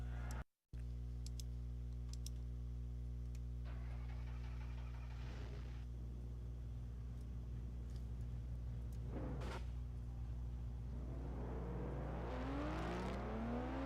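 Race car engines fire up before the American 700, Round 10 of the ARCSOA Elite Series: a steady low rumble drones throughout, with engine notes rising and climbing in pitch toward the end.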